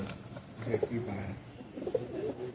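Kolkata high-flying Madrasi pigeons coo softly in a dark loft, a couple of low, rounded calls rising over steady room noise while someone talks nearby.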